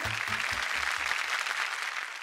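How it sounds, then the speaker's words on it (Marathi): Studio audience applause on a Marathi women's game show, a broad steady wash of clapping with a few low voiced bursts near the start, fading slightly toward the end. "एकदा जोरदार टाळ्या झाल्या पाहिजेत"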